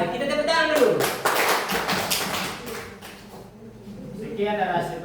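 Classroom audience clapping after a student presentation, a short burst of applause that swells and fades within a few seconds, with people talking underneath and afterward.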